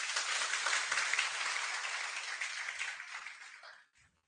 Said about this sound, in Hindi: जोरदार तालियां बजाना